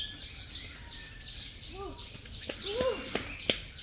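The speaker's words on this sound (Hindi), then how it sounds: "चिड़ियाओं की आवाज़ आएगी आपको" Birds chirp and call in the morning around a green Wayanad homestay, with several short, scattered tweets at moderate distance over a soft outdoor background.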